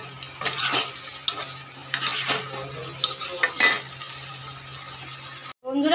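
Drumstick and potato pieces stir-fried with spices in a pan for a light Bengali fish curry, repeated scraping spatula strokes and metallic clinks over a low sizzle, close and fairly loud, ending in a brief cutoff.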